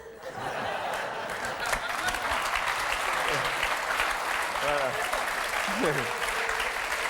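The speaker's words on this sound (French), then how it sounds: "Et mademoiselle applaudit." Studio audience applause on a French television game show, steady dense clapping throughout with a few chuckles and voices mixed in.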